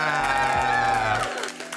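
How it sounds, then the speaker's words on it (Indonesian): Audience cheering and applause rise as a game segment begins, a close burst of crowd whooping and clapping with voices shouting over a sustained tone, fading slightly at the end. "Tepuk tangan dulu semuanya"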